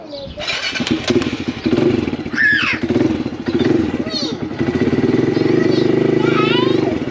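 Kawasaki KLX110 dirt bike engine running after an oil change, a steady close putter with rhythmic pulsing throughout, while people talk over it.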